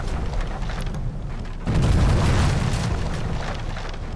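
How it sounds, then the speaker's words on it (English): A naval fleet shells shore defenses at Tarawa in the Victory at Sea Pacific game, with a heavy booming blast midway that swells into a sustained rumbling roar of explosions. "here's our fleet shelling the defenses at Tarawa"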